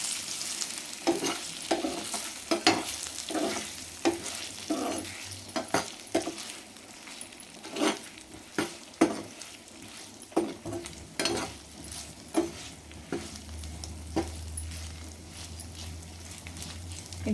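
Peeled colocasia (taro root) pieces roasting in a pan over low flame: a steady sizzle with repeated close scraping stirs at a regular pace, then a low hum toward the end.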